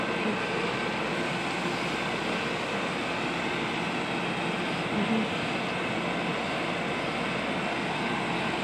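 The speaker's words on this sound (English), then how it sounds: "Amtrak 702 from Sacramento leaving Madera Station." Amtrak P702 locomotive pulling out of Madera station in California, a loud steady engine roar with broad rumbling noise holding throughout, no voices.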